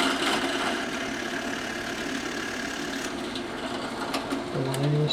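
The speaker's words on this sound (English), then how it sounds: "Paying attention to where I'm drilling those holes." Continuous whine of a drill boring holes through a stave drum shell, steady and close, easing off near the end as the bit winds down.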